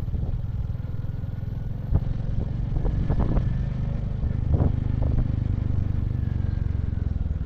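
A motorbike ridden along the Silk Route mountain road in Sikkim between Nathang valley and Zuluk, its engine a steady close rumble throughout, with a few scattered clatters and knocks over the top.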